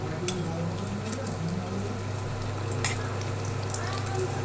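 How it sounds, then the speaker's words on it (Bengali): Chicken frying in a pan, a soft continuous sizzle with a faint bubbling crackle at a moderate distance, steady throughout. "চিকেন ফ্রাইটা দেখো, এখানে আমি ভাজতে শুরু করে দিয়েছি।"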